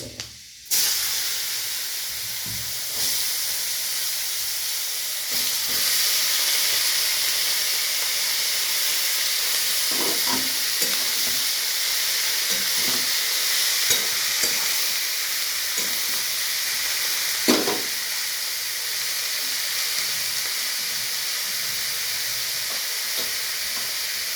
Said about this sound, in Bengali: তেলের মধ্যে মেথি ফোড়ন দেব দিয়ে এবার লাউগুলো ছেড়ে